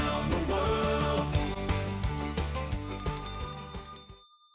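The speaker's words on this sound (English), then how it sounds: "See, I added the bells." Bright bell chimes ring over a cheerful song with a steady rhythmic backing, layered tones stacking up before everything cuts off abruptly at the end.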